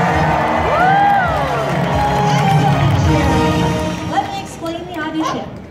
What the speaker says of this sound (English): Everybody on this half of the audience, you are cheering on Dex